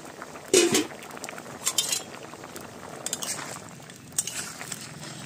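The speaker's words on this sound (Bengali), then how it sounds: "কিছুক্ষণ বাদে ঢাকনাটা খুলছি" A metal lid comes off a pan of mankochu taro frying, giving a sharp clink followed by lighter scattered clinks and taps over a soft, steady frying background.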